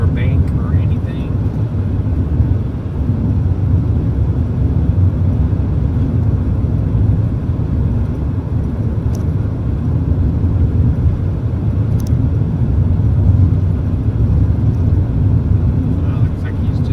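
A fixed-wing airplane passes overhead heading west, a steady broad engine drone that fills the whole stretch at moderate loudness, with road or vehicle noise mixed in and a person talking over it.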